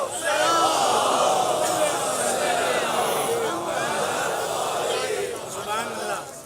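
A large gathering at a Muharram majlis recites salawat loudly in unison, a sustained, swelling chant of many voices that fills the whole stretch.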